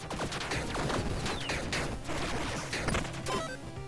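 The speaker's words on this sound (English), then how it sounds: "More bombs." Bombs explode in rapid succession in Tiny Rogues, a dense run of sharp, crackling bursts and thuds filling the whole stretch with no pauses.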